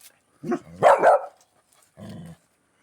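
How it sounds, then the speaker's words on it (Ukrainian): Dogs bark at a caught hedgehog: a burst of two or three sharp, close barks, then a shorter, softer bark after a brief pause. "Та й гавкають на нього."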